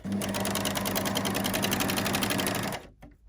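Overlocker stitching fabric piping for a bottle gift bag, a steady fast mechanical whir running loud and close for almost three seconds before stopping abruptly.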